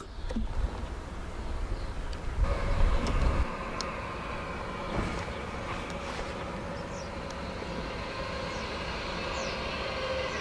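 An Austrian freight train slows to a stop at a station, its rumble loud at first and fading to a steady hum with faint metallic squeals and tones.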